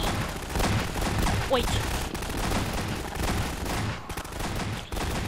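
Continuous shotgun blasts and other gunfire fill a chaotic Garry's Mod battle, a dense barrage of overlapping shots with a voice talking over it.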